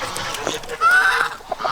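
Farm ducks honk and quack loudly, close by, in a short run of calls among flying birds in a barnyard, with a rising call in the middle.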